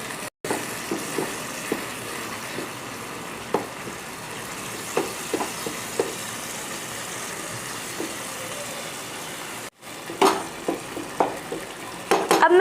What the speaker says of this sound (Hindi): अब मैं इसके हल्के हाथ से मैश कर लूँगी टमाटरों को